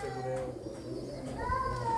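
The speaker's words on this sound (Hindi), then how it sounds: "कलमुए कबूतर फेमस राजस्थान टोंक की ब्रीड है ये" Kalmuhe pigeons, a Tonk breed from Rajasthan, cooing softly in a few low rolling calls amid background murmur and faint chatter.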